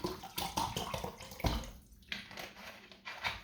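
Water is poured into a measuring cup in a close, splashy trickle that wavers in strength, briefly drops out, then resumes, with no talking.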